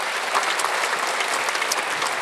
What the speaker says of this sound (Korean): 박수 치며 들으시기 바랍니다